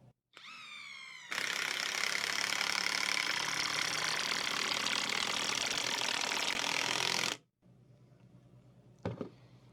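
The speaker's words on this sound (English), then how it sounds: "let's see how quickly the Maxmore can sink one of these 10-inch construction screws" A Maxmore 20-volt mid-torque impact wrench on speed 3 drives a 10-inch construction screw into timber, giving a long, loud continuous hammering rattle of about six seconds that stops abruptly, with brief motor whirs before and a clunk after.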